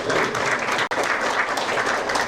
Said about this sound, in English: Round of applause once more.